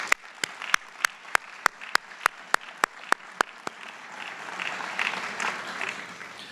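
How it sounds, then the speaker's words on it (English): Audience at a tenure and retirement celebration applauding, beginning with a dozen evenly spaced loud close claps from one person before a broader, softer round of crowd clapping swells in. "So everyone, give a big round of applause for those people, please."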